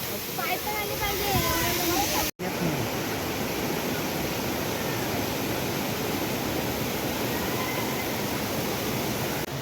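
A waterfall at a Kokan temple site rushes in a dense, loud, unbroken roar, with a momentary dropout near the start and faint voices carried over the torrent.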